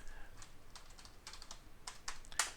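Password keyed in on a computer keyboard, a faint scatter of quick clicks over a low background hum, with a sharper final keystroke.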